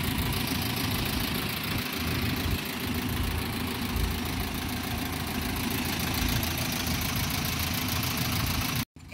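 A 2022 freezer van's 4M50 engine idles with a steady, close, loud rumble and a slight knock, continuing without a break until it cuts off abruptly near the end.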